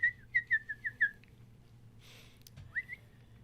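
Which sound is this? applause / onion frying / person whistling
person whistling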